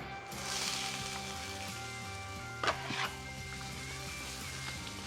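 Onions sizzling in avocado oil on a flat griddle give a steady, close frying hiss that runs throughout, with a brief sharper crackle burst near the middle.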